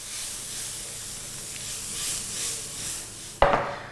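A knob of butter sizzling with mushrooms, garlic and parsley in a hot pan: a steady, even frying hiss throughout, ending in a sudden sharp clink and a louder burst of sizzle.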